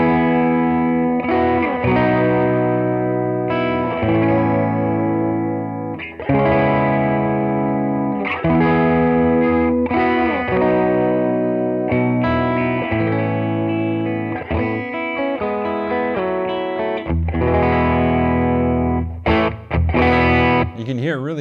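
Distorted electric guitar on the bridge pickup of an LSL Silverlake plays chords and riffs, crunchy and bright with gritty breakup, steady and loud throughout with no talking.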